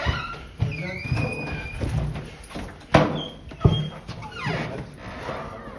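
A door opens outdoors. There are a few sharp knocks and clunks, then a scraping movement, fairly close. People talk over it and street noise runs underneath.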